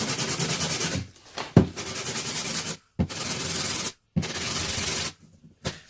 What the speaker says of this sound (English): I'm going to just start sanding this down now.